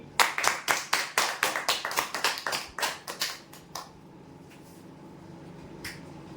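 A small crowd at a weekly lottery draw event claps in a quick, uneven burst of sharp, close claps for about four seconds, then it thins to a couple of stray claps over quiet room tone.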